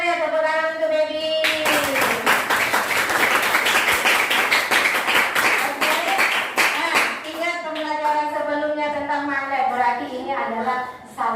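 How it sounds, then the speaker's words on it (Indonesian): A classroom gives a burst of clapping in a primary science lesson on magnets, a dense rattle of small hands lasting several seconds, sandwiched between a teacher's speech before and after. "Tepuk tangan untuk baby."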